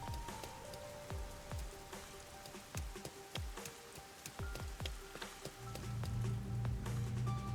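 Red rain falls in the Rain Code video game, a steady wash of raindrops tapping on surfaces with scattered heavier drips. A low droning tone enters near the end.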